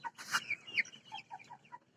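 Tiger breed chickens, 46 days old, give off a quick run of soft clucks and short chirping calls from close by at low volume.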